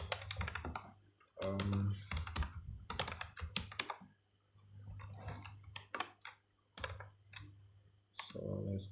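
Computer keyboard keys clatter in quick bursts while client-side socket code is typed, close and clear, with pauses between runs and a brief murmur of speech.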